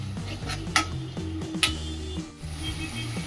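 Fish biryani masala gravy is stirred in a pot with a utensil, producing a few soft clinks and scrapes against the metal, quiet and close, with no talk.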